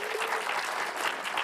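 Brief burst of steady clapping from an awards ceremony audience honoring science fiction nominees, full and close, with no speech over it.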